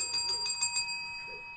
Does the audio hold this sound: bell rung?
yes